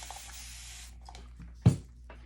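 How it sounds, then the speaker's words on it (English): Short spritzes from a spray bottle of water onto thick chalk paste, a few soft hissing bursts followed by one louder, sharper spray near the end. "And sometimes if you just spray it and let it sit to collect the water, it'll help thin it out."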